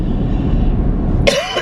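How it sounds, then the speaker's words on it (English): A single sharp cough from a person bursts out near the end, after a stretch of low rumbling background noise. "See, now I'm coughing and I don't even have a cough."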